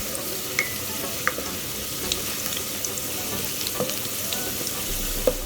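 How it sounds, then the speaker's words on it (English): Steady sizzling of onions for beef stew frying in oil, a continuous close hiss with occasional small pops and stirring clicks. "listen to that sizzle"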